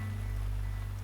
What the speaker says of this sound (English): The rain never let up.